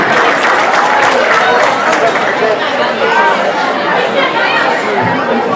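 A crowd applauds and chatters at an awards dinner, steady clapping mixed with murmuring voices filling the room throughout.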